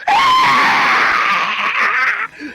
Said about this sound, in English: as the creature shrieks out in pain